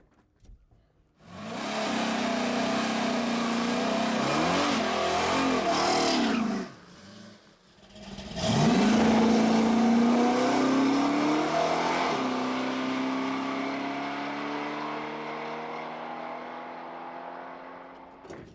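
A drag race car launches and accelerates hard down an eighth-mile strip, the engine note climbing loudly through gear changes, dipping briefly, then pulling again before fading gradually into the distance.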